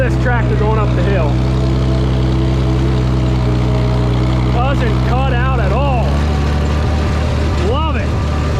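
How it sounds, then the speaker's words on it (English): A Farmall 460 tractor engine drones loud and steady while climbing a hill, a deep continuous rumble with a rhythmic chug toward the end, as someone speaks briefly over it. "Listen to this tractor going up the hill."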